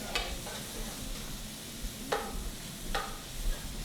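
Mixture sizzles softly in a pan before garlic goes in, with a low steady hiss broken by a few sharp scraping clicks of a utensil, and no voices.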